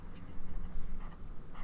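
A Pineider Avatar fountain pen with a fine nib writes in red ink on paper, giving a close, soft scratching of continuous nib strokes over a brief stretch.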